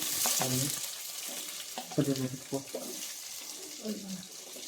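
Onions frying in hot oil for a country chicken curry, a soft continuous sizzle beneath someone talking close by.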